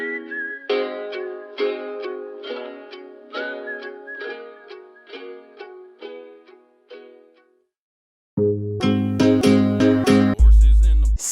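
A whistled melody repeats in short plucked-like phrases over a gentle country-rap backing as the song fades out, followed by a louder, fuller passage with banjo-like plucks.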